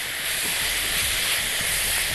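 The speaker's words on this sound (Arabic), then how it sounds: "طيب هنقلب كده تقليبه حلوه" Chicken breasts and vegetables sizzle steadily in a pan while being stirred, a continuous close hiss with no talk over it.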